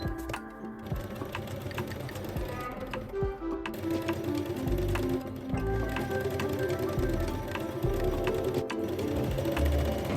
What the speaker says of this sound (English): Stitch on the sewing machine.